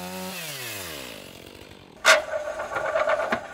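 A chainsaw cuts through the end of a log at a mobile sawmill. The engine is heard at a steady whine, then the blade bites into the wood with a loud, harsh burst that continues as a rough grinding buzz.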